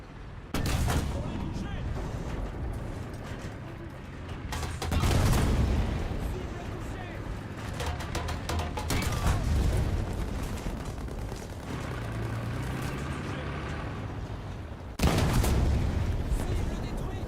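Tank cannon shots ring out in War Thunder against a T-54, several loud booming blasts spaced seconds apart with rumbling tails, under ongoing commentary and game voice lines.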